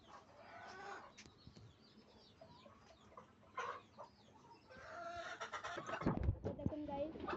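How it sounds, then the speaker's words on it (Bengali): A tiger-breed chicken clucks in a Bangladeshi backyard near potato and taro plants, with scattered calls and a wing flutter near the end, fairly soft amid outdoor background noise. "এই যে টাইগার মুরগি।"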